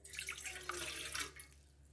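Half a glass of water is poured into a pan on a gas stove, a brief splashing pour that tapers off after about a second and a half, quiet and close with no talk.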